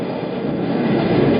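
A passing train gives a dense, continuous rumble and rattle, steady and fairly loud throughout the short stretch, with no talking.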